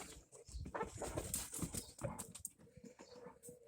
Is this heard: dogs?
yes